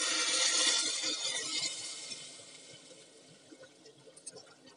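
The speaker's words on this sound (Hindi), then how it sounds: "अब इसमें थोड़ा पानी डाल दूंगी।" Water is poured into khichdi in a pressure cooker, a bright splashing gush that is strongest at first and then tapers off into faint trickles and drips, close and quiet.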